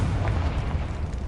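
Blasting spell explosion in Hogwarts Legacy, a brief low rumbling boom that fills the short moment without any voice.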